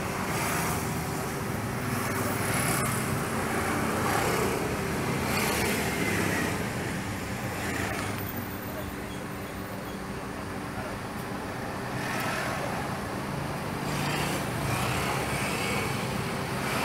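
A 2011 Mazda CX-7 with a 2.3-litre engine fitted with an HHO fuel saver runs steadily nearby, a continuous broadband engine drone with mild swells as the throttle is applied, while someone talks over it.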